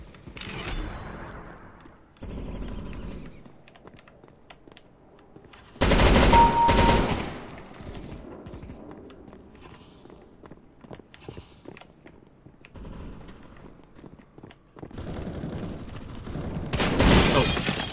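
Video game gunfire comes in harsh bursts of rapid shots, a short volley near the start, a loud heavy burst in the middle and dense firing toward the end, separated by quieter stretches of scattered clicks and noise.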